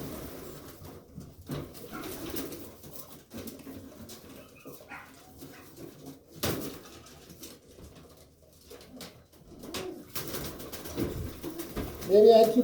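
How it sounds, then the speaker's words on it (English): Pigeons coo faintly and intermittently inside a crowded loft, soft low calls scattered among rustling and handling noises, with occasional louder bursts near the end. "Maybe I had too many birds in here."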